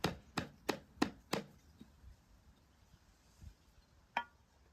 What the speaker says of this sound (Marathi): आता याला आपण पलटी करूया याला असं थापून घ्यायचं